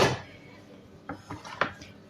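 A large steel cooking pot clanks at the start, followed by three light, separate metallic taps and knocks, close by.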